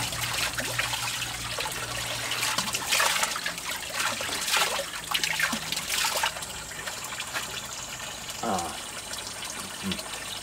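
Cold spring water trickling and splashing steadily, a continuous close bubbling wash with brief gurgles, while someone talks quietly at times.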